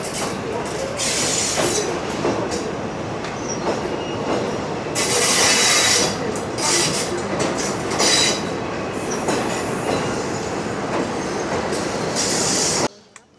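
A train rolls along the railway in Kanchanaburi, Thailand, a loud, steady rumble with clattering wheels and bursts of metallic squeal. It runs continuously close by and cuts off abruptly at the end.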